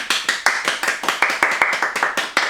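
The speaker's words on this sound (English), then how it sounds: "Give yourselves a big round of applause" A youth theatre workshop group claps in a loose, rhythmic burst, each clap close and sharp, a handful of people in time rather than a large crowd.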